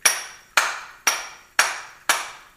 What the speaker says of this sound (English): just get yourself a rubber mallet and just start gently